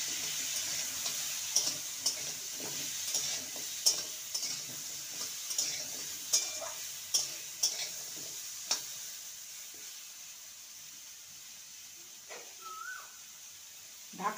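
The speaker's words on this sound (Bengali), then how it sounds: "কড়াইতে সর্ষের তেল দিয়ে দিয়েছি। এবার পটলগুলো ছেড়ে দেবো," Pointed gourd pieces fry in mustard oil in a wok with a soft, steady sizzle, while a utensil stirs them in a run of light, regular scrapes and taps.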